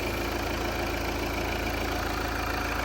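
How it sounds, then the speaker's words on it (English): A Volvo V60 D4 estate's engine idles steadily at close range in the engine bay, a continuous low hum with no one speaking over it. "We've got the engine running, of course."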